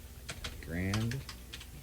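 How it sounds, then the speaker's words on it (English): Clicky computer keyboard typing with short bursts of keystrokes during a radio show segment, near and moderately loud, briefly overlapped by a voice in the middle. "How come it ain't typing?"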